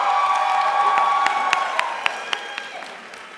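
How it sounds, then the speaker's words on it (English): An audience at a college commencement ceremony applauds graduating students, a steady wash of clapping and light cheering with a few sharper individual claps standing out near the end. "applaud as much as you want for every single student"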